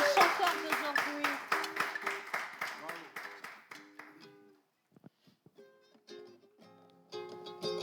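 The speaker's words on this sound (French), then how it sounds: "est-ce qu'on peut applaudir notre chanteur d'aujourd'hui?" Rhythmic group clapping keeps time for a singer, sharp regular claps over a singing voice, fading midway before sparse claps and singing return.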